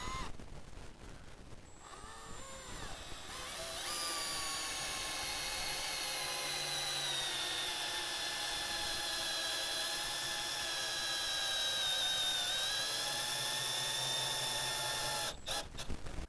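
A Milwaukee drill driver spinning under heavy load, a loud continuous high-pitched motor whine with a shifting tone as it strains, starting after a brief wind-up and cutting off abruptly near the end.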